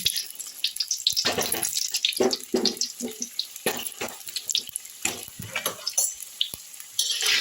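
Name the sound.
potato pieces frying in hot mustard oil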